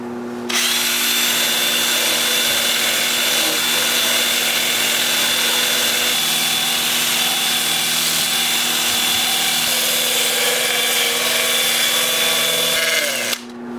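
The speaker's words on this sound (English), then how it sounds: "I'm going to start the sanding with my Sandoflex to do this edge right here." Power sander spinning against the edge of a box elder wood turning, a loud, steady high-pitched whir that starts abruptly, holds constant for about thirteen seconds with faint scraping, then cuts off.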